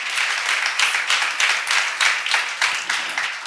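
An audience at a church seminar on Ephesians claps together in a steady, dense burst of applause that holds at a fairly loud level for several seconds.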